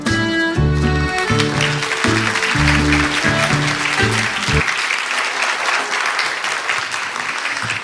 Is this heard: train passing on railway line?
no